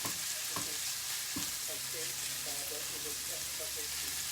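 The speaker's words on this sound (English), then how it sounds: "Okay, that's sizzling nicely." Quiet, continuous sizzle of a Kerala-style fish curry base frying in a pan, with a few soft clicks and stirring knocks over the steady hiss.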